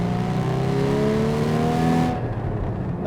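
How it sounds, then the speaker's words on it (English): A Porsche 981 GT4 engine revs hard on a downshift with rev matching, its whining tone climbing for about two seconds, then cutting off abruptly into a low residual rumble. "I just love the rev matching, the sound that you get on the downshift"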